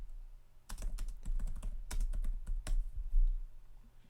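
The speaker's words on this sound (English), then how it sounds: "if I type it into Google" Rapid keyboard typing in bursts of clicks and key taps, close up, with a short pause midway before another flurry of keystrokes.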